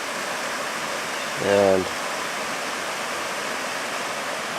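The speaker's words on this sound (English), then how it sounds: "Well, we're at our waterfall here." A waterfall running with a lot of water, in September, with a boulder submerged beneath the flow, roars as a steady, loud broadband rush throughout, with someone speaking briefly over it.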